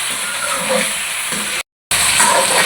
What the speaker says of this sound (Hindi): आप देख रहे होंगे कि मैंने डायरेक्ट प्याज में ये डाला है। थोड़ी देर इसमें फ्राई करूँगी